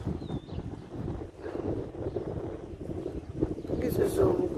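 Strong desert wind buffets the microphone with steady low rumbling gusts, while a person speaks throughout and a few faint higher tones appear.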